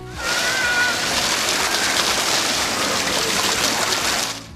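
An automatically programmed fountain in a city fountain complex splashes water loudly and continuously, a dense rain-like spatter that holds steady throughout.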